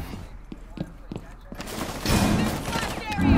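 Short bursts of hip-fired gunfire in a fast-paced multiplayer shooter match, a few sharp shots early followed by a denser rattle of rapid fire, with a player's excited voice talking over the action.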